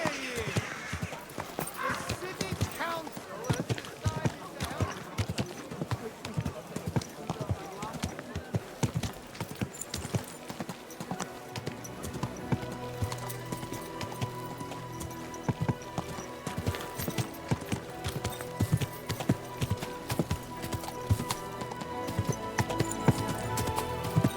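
Rhythmic clip-clop of horse hooves continues throughout with ambience from the video game Kingdom Come: Deliverance II, a voice speaking briefly over the steady trotting.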